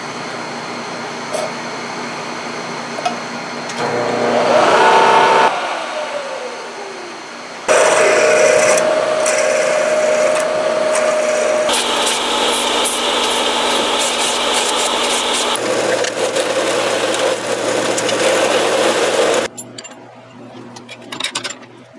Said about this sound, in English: I'm going to drill them all at one time.